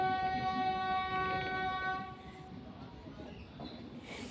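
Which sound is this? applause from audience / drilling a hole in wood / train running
train running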